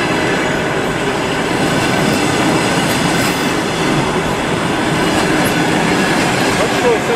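A long-distance Barnaul–Moscow passenger train pulls out and builds speed, its loud continuous rumble and rattling wheels filling the scene steadily and close by, with faint voices underneath.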